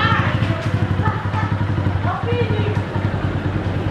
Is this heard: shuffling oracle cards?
no